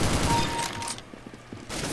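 Gunfire in Counter-Strike: Global Offensive with an AUG rifle in play, a brief loud burst of automatic shots that fades into a few quieter scattered reports before firing picks up again.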